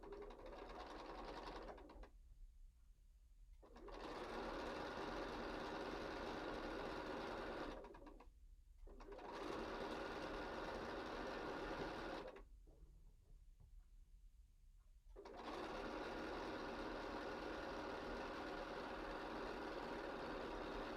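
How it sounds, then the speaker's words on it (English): A sewing machine stitches borders onto a square-in-a-square pillow in three long, steady whirring runs, with brief pauses between them, close and quiet. "I am just going to sew it on there and hope for the best."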